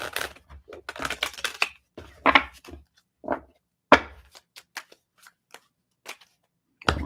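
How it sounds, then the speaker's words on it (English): A deck of tarot cards is shuffled by hand in a series of quick riffles and taps, crisp bursts clustered at first, then sparser single slaps and clicks, close and fairly quiet. "A couple more shuffles"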